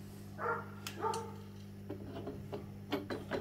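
A dog barks a few times at a distance, with short, faint yaps over a steady low mechanical hum in a workshop.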